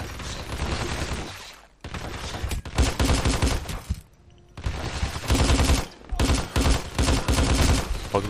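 Bursts of video game gunfire from Hitman Absolution, rapid shots in dense clusters with short pauses between volleys, loud and close, with a voice faintly under the shooting.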